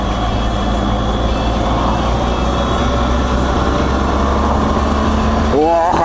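A BMW 1200 motorcycle engine drones steadily and loudly during a test ride, with constant wind-like noise around it, and a brief rising whine near the end.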